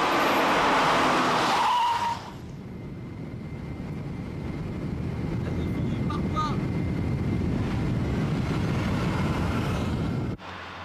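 A 1990 Toyota Supra cruising on a motorway gives a steady, full roar of engine and road noise. A louder burst opens it, then it settles into an even drone with a brief thump near the end.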